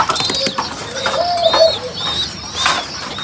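Pet white pigeons make soft, repeated cooing calls close by, with a few short rising notes and light rustling, and no voices.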